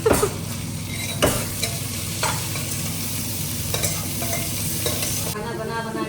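Chhole, a chickpea curry, fries in a pan in a home kitchen, giving a steady loud sizzle broken by several scraping stirs of a spoon, with no talking.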